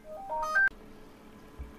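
A telephone rings during a recording session: one short rising electronic ringtone melody, moderately loud and close, that cuts off abruptly and leaves quiet background.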